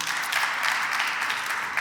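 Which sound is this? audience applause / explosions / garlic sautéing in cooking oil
audience applause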